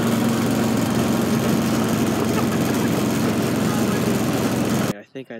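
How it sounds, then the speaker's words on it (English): A lawn mower engine drones loud and steady at close range for several seconds, then cuts out abruptly as a voice begins speaking. "I think I did a pretty good job mowing the lawn."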